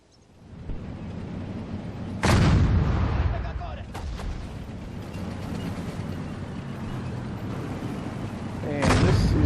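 Artillery in the World War II strategy game Sudden Strike 4 fires several booming shots in the Soviet campaign on the Mannerheim Line, with heavy blasts and rumbling tails over battle ambience and short unit voice responses.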